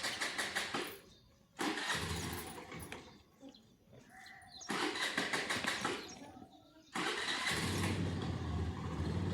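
A motorbike engine cranks and starts in bursts of loud rough sputtering, with pauses between attempts. Faint bleating animals and some voices fill the quieter gaps.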